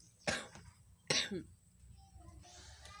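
Two sharp, close coughs about a second apart, the second trailing into a throaty rasp, followed by quiet background.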